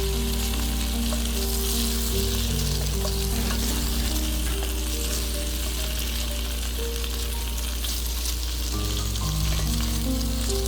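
Snow peas stir-frying with daylily buds and mushrooms in a hot pan, a dense, constant sizzle over a low steady hum, loud and close throughout.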